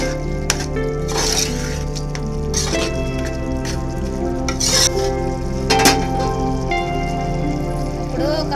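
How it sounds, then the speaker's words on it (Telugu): Kasuri methi is stirred into spinach and moong dal in a pan, giving a soft, steady sizzle with repeated scrapes and clinks of a spoon against metal, close and continuous. "ఇప్పుడు కొద్దిగా కసూరి మెతి వేసుకుందాము ఒకసారి కలుపుకుందాము"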